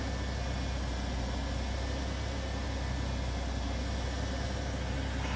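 2001 Ford Taurus engine idling just after start-up following fuel injector replacement, a steady even hum heard alone and close.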